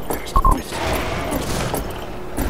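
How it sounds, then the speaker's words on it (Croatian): In the Western shooter game Fistful of Frags, a few sharp blasts go off early, followed by a rumbling, noisy tail of gunfire and explosion debris. "Eksplozija."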